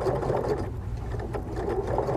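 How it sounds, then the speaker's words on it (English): A sewing machine chain-sews fabric pieces for a Churn Dash quilt block, running in a steady, continuous mechanical whir at close range with no pauses and no talking. "continue to chain sew those pieces together"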